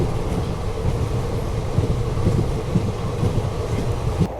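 An Indian Patna Kota Express passenger train overtaking alongside on a dedicated freight corridor, heard as a steady, loud broadband rumble of rolling wheels and rushing wind that runs without a break.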